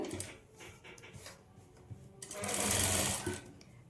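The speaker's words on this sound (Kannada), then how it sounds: "ನಾನಿಲ್ಲಿ ಪೈಪಿಂಗ್ ಪಕ್ಕದಲ್ಲೇ ಸ್ಟಿಚ್ ಹಾಕ್ಕೊಳ್ತಾ ಇದ್ದೀನಿ" Sewing machine running close by as it stitches alongside the piping on a blouse, a rapid mechanical whirring hum that comes in short runs, pauses briefly, then builds into a louder sustained burst.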